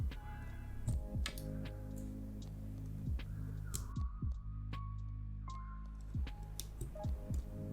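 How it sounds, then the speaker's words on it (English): Switches are pried one by one out of a budget iLovBee i61 mechanical keyboard, producing scattered sharp plastic clicks and ticks at irregular intervals, quiet and close with a faint hum behind and no speech. "let's go ahead and get these switches off"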